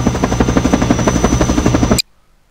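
A helicopter in the video game Garry's Mod gives a loud, rapid, steady rotor chop, then cuts off abruptly to near silence.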